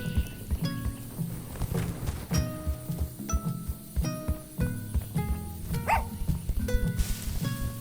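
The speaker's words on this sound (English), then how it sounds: "Dog." A dog barks in short, irregular yaps in the Tchia video game, mixed with clinks, footsteps and light game sounds, moderately close and at a modest level.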